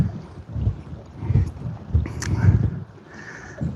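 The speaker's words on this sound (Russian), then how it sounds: "Ветер поднялся, капец." Strong wind buffets a fishing boat anchored at sea off Norway, with gusty low rumbling and microphone wind noise swelling and easing throughout, no speech.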